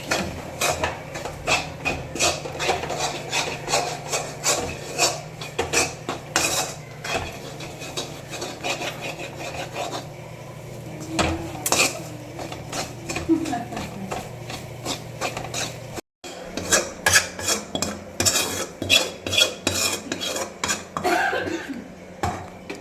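Spice powders (coriander, chili, meat masala, turmeric) being stirred and fried in a pan for a home-style beef curry, with steady scraping and rubbing of a spoon against the pan throughout, close and fairly loud.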